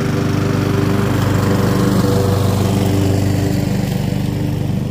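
A Honda lawn mower on its lowest setting scalps grass down short in spring, its engine droning loud and close at a steady, unbroken pitch.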